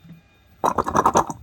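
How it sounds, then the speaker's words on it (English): After a near-silent moment, a burst of wet, gurgling spurts as a syringe forces water through the suction port of a Deebot Omni robot vacuum's clogged cleaning sink, rapid and irregular, fairly close. "Pump it a couple of times until you hear it clears out."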